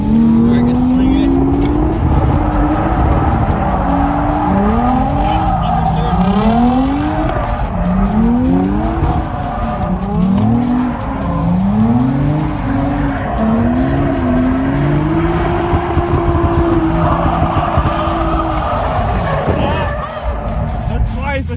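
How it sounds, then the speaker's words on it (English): A Lexus IS drifts with long, wavering tire squeals that rise and fall repeatedly over a loud engine drone, heard from inside the car, with voices talking over it. "We're going to try to drift around my IS and see what we can come up with."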